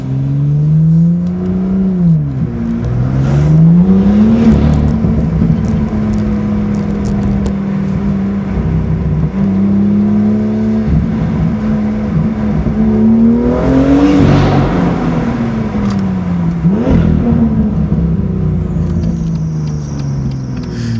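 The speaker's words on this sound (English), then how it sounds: "Let's open up the exhaust underneath these tunnels here." A 2018 BMW M2 with M Performance exhaust drones loudly in a tunnel, rising and falling through several revs and gear changes, with a boomy, enclosed echo throughout.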